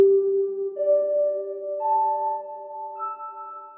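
A synth piano through the room reverb setting of a Strymon BigSky MX pedal, playing a few sustained notes that step upward, each one ringing on in a smooth, roomy tail with no talking.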